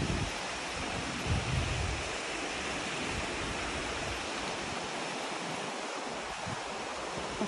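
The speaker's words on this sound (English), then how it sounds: "this river's in flood, it's scary. And it is rapid," A rapid river in flood rushing through ancient woodland, where large trees have been washed up, gives a loud, steady, broadband roar of churning water with no pauses and no voices.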